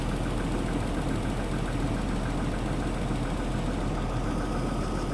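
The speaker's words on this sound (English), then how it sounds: "It's idling fine." An old Jaguar engine idles steadily with the bonnet open, a continuous low mechanical rumble and hum heard close up, with faint knocking and vibration throughout and no voices.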